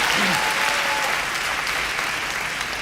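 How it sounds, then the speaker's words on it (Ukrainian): Steady audience applause at a Ukrainian talk event, dense and even for the whole stretch, with a brief voice or whistle tone near the start. "Аплодисменти."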